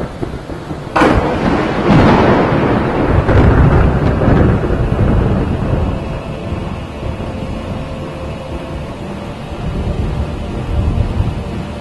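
A loud thunderclap cracks and rolls into a long rumbling thunderstorm with steady rain and gusting wind filling the whole stretch.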